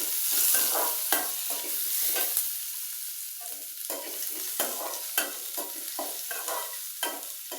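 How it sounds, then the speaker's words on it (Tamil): Mustard seeds, cumin, curry leaves and onion sautéing in hot oil: a steady sizzle with repeated scraping strokes of a spoon stirring through the pan, close and continuous, with nobody talking. "கடுகு போட்டு கொஞ்சம் சீரகம் போட்டு கருவேப்பிலை போட்டு வெங்காயம் போட்டு வதக்கிட்டுருக்கிறேன்"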